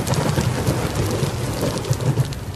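Heavy rain pours down on the streets of Lomé, Togo, during a flooding storm. It makes a dense, continuous roar with no voices over it.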